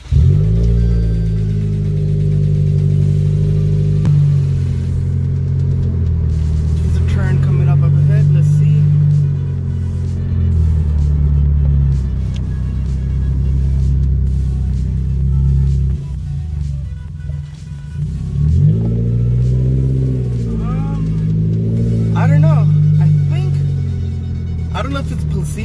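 A Toyota Corolla Hatchback fitted with a Blitz strut tower bar on a test drive, its steady engine drone rising and falling with acceleration while a driver talks over the cabin noise.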